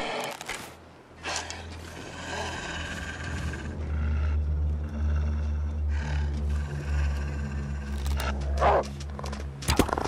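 A wolf in The Long Dark growls low and rumbling in bursts across the clip, close and fairly loud, with a rougher swell near the end and no talk.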